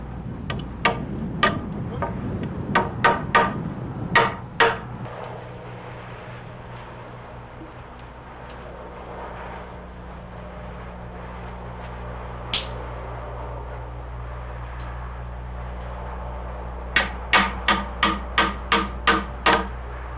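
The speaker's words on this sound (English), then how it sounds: "a plywood template may be nailed onto the side" Hammer blows drive nails through a plywood template into the side of a log beam for a log cabin post notch, a quick burst of sharp strikes at the start, a lone knock midway and another rapid run of blows near the end over a low steady hum.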